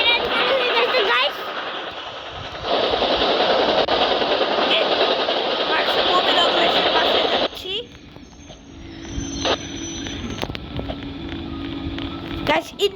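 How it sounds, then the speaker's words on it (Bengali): Train in a mobile video game starting up and running, a steady mechanical rumble and rushing noise that drops away midway to quieter hum with tonal beeps, with speech over it. "ট্রেন চালু হয়ে গেছে"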